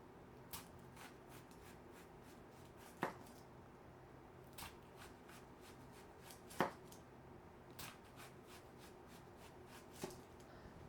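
A knife slicing a red onion into rings on a board, quiet rhythmic cuts with a few sharper chops landing every second or two, close and alone.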